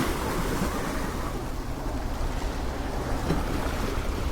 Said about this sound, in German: Das war das Wasser, wie gesagt.